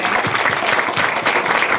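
Film festival audience applauding a first-place winner, a short, steady wash of many hands clapping close by.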